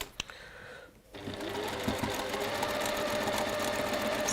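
A sewing machine starts up after a couple of faint knocks and then stitches in a steady, close, continuous whirring run that holds for several seconds.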